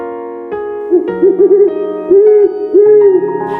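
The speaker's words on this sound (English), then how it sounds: "it's Polly, our owl" An owl hoots in a few loud, close, tonal bursts with a wavering pitch, spaced irregularly over a sustained, steady musical hum.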